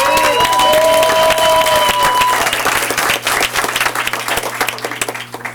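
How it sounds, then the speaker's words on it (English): Loud, sustained applause and cheering from a crowd at a school district board meeting honoring an employee of the year, dense clapping with whoops and shouts, tapering slightly toward the end. "let's give a big round of applause to our classified High School Employee of the Year,"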